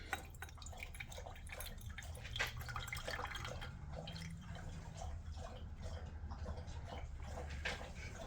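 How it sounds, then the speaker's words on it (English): Dynamic Descaler liquid solution is poured out of a container into a beaker, making a continuous close trickle with frequent small drips and splashes over a low steady background hum. "we're going to actually pour the liquid out"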